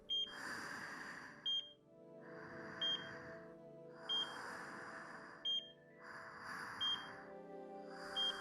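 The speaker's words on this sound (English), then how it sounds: "The machine was beeping." Electronic machine beeping from the visual novel game Chaos;Child, a short high beep repeating at regular intervals of about one and a half seconds over a recurring swelling tone, clear and close with no talk.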